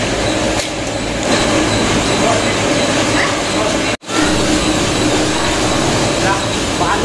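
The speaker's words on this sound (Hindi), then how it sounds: "तो ये हमार चावल आटा पीसे बरा है" A flour mill grinds rice into flour with a loud, continuous mechanical rumble and whir, a brief dropout near the middle, and a voice talking over it.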